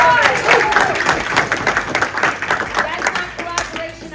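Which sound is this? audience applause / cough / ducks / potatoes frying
audience applause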